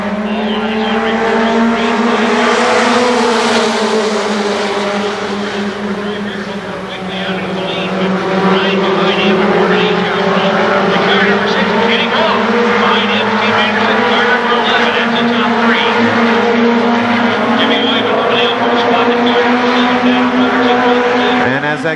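Stock cars race at Winchester Speedway at the 1995 season opener, their loud engines roaring steadily along the front straightaway as a pack goes by, while a commentator talks over the noise.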